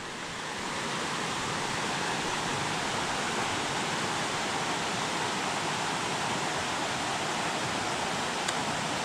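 Hazel Creek runs high past a campsite, its rushing water a steady, even hiss that holds constant from start to finish with no other sounds.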